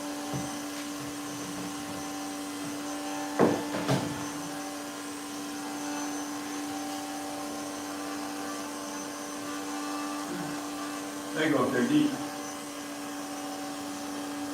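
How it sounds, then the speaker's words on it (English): A battery-operated bee vacuum with hose hums steadily at moderate level while removing honeybees during a hive cutout, with a few brief louder bumps and rustles and a short spoken remark. "this one is actually called the Everything B-Vac. It's a battery-operated vacuum that comes with the hose"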